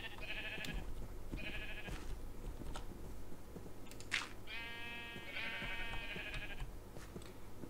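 Minecraft sheep bleat repeatedly in short quavering calls, some overlapping, with soft game ambience underneath and no talking.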